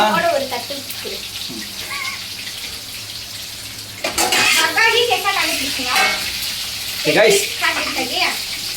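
A steady sizzling hiss of chili chicken frying in hot oil fills the background while people talk over it, the crackle swelling louder midway.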